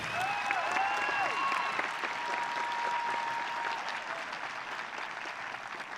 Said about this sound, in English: If we could please give another round of applause for our valedictorian and salutatorian.